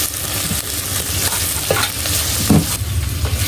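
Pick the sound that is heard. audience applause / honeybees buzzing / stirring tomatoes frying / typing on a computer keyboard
stirring tomatoes frying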